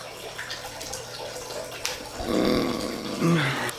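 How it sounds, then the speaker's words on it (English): Water running from a leak on a property where horses are kept, a steady rushing wash with irregular surges and splashy bursts that swell louder toward the end, heard close with no talking. "Hear that? We have a water leak."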